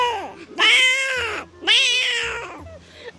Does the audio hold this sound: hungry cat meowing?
yes